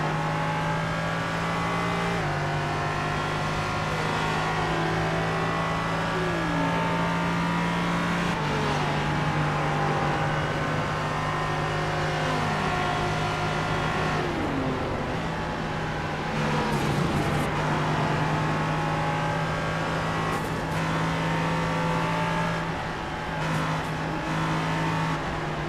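Race cars in a sim endurance race, including a Mercedes and an LMP3 prototype, drone steadily with engine tones rising and falling as they pass, continuous and fairly loud throughout with no talking.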